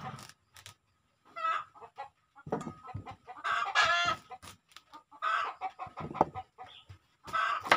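Chickens cluck in short, separate bursts, close by and fairly loud, while a rooster crows faintly in the background.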